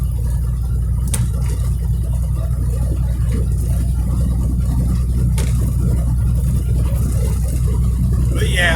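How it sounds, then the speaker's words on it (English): A car driving along produces a steady low road and engine rumble throughout, with a few faint clicks above it. "I'm driving right now, so that's why I look distracted."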